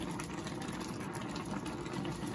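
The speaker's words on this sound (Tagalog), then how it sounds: "kumukulo na" Steady bubbling and churning of water at a rolling boil, close up and continuous, with no talking.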